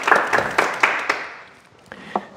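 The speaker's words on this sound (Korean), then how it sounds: "큰 박수 부탁드릴까요?" Scattered claps from a small lecture audience: a handful of sharp, evenly spaced hand claps that fade quickly, followed by two more isolated claps.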